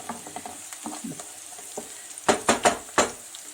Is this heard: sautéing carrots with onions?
yes